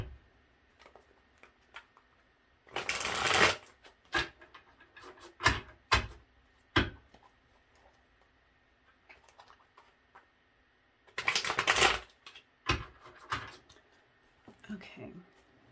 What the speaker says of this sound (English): let me shuffle the tarot deck